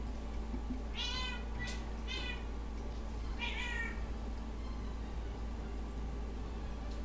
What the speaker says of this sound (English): That's my cat being a cat.